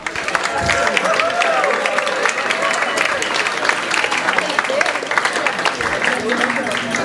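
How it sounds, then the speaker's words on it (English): An audience applauds two presenters at a Pecha Kucha talk about the game of Go, sustained clapping from a crowd with voices and cheering mixed into the clatter. "let's have another round of applause for Bob and Mark"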